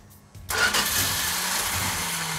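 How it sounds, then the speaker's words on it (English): The 340 engine of a 1972 Plymouth Duster cranks briefly and fires up, then settles into a loud, steady rumbling idle close by. "I was just going to crank it and let it build the fuel up."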